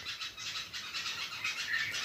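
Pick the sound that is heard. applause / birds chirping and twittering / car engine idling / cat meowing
birds chirping and twittering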